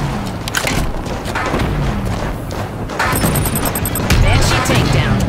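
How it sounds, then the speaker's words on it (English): Banshee aircraft blowing up in Halo 5 Firefight, loud crashing blasts and booms over dense continuous gunfire and game noise, with a second burst of explosions near the end and voices talking underneath. "Both of them just exploding."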